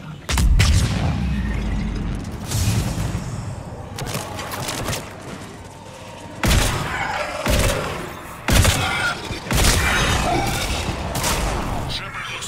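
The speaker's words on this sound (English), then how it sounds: "We're in the middle of a firefight right now." Gunfire and explosions in a Mass Effect 3 firefight: repeated loud booming blasts and bursts of shooting separated by quieter stretches, with voices talking intermittently over the combat.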